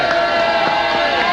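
A live studio crowd in Chicago cheers and whoops in a short, loud, continuous burst.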